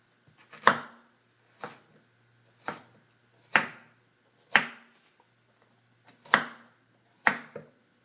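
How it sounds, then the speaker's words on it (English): Seven slow, evenly spaced knife chops on a cutting board, each a crisp thud through carrots, with quiet pauses between. "when I chop the carrots"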